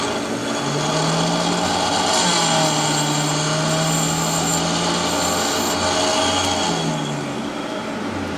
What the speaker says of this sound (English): I'm going to go ahead and freshen up my tungsten. Running 1/16 tungsten.